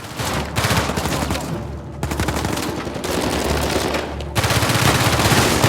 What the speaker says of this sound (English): especially the way different guns sound in different environments